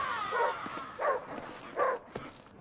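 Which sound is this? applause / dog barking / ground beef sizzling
dog barking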